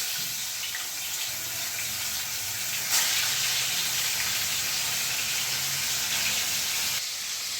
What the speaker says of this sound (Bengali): তেলটা গরম হয়ে গেছে, আমি একে একে মাছগুলো কড়াইতে দিয়ে দিচ্ছি।